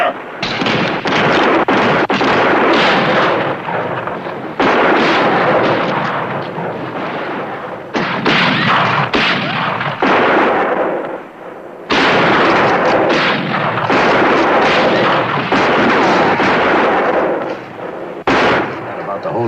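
Gunfire in a western shootout booms and cracks repeatedly in loud, echoing volleys over nearly twenty seconds, with short gaps between clusters of shots and a dense, rumbling backdrop.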